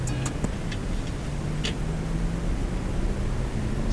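A Lexus LS400 with a freshly repaired ECU pulls under part throttle, a low steady engine drone with road and cabin noise heard from inside the car, a few faint ticks over it, no talking.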